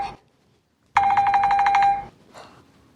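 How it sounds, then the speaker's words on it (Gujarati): A telephone rings in one short, close burst lasting about a second, a rapid pulsing electronic trill that stops abruptly, with a quiet room before and after. "એ ફોન રિંગ વાગે"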